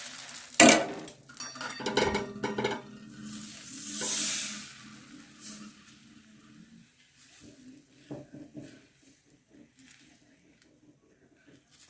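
Mustard pitha frying in a kadai, a soft sizzle beneath scattered clatters and scrapes of a utensil against the wok, louder knocks early on, then quieter frying.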